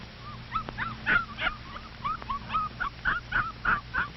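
Puppies yip and whimper in the box where they sleep, a close run of short, high, squeaky cries repeating in quick, uneven bursts with no talking.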